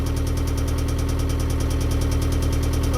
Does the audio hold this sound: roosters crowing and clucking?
no